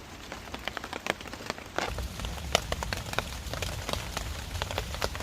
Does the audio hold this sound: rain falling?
yes